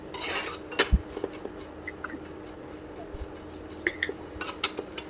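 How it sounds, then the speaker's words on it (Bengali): Shrimp heads fry in a pan for a prawn-head bharta, with scattered utensil clinks and scraping clatter against the pan, irregular and close, and no talking. "এই তো আমার চিংড়ি মাছের মাথাটা ভাজা হয়ে যাচ্ছে"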